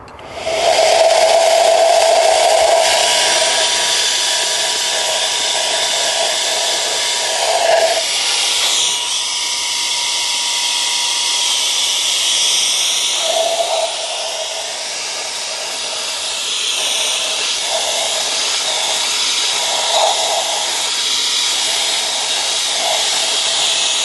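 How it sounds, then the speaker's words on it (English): A small handheld vacuum/blower clears debris from a cylinder in an Audi A4 engine, a steady loud airy whine and hiss running the whole time with slight shifts in pitch, alone without talk. "the way I'm getting all the debris out is with this little vacuum / blower"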